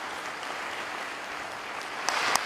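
Steady applause from an audience at a book presentation honoring minister Cheikh Tidiane Thiam, a continuous wash of clapping at moderate distance with a couple of sharper claps near the end.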